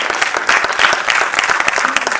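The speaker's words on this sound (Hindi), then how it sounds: "तो आप लोग जोरदार ताली से स्वागत कीजिए इनका।" An audience at a women's akhara gathering ahead of the Simhastha Kumbh gives a speaker a loud, close burst of steady clapping throughout.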